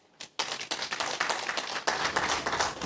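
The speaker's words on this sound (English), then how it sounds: "Please give a round of applause to Fahad Castle." Applause from an audience at an economic forum, a dense burst of many hands clapping that starts abruptly after a brief lead-in and continues steadily throughout.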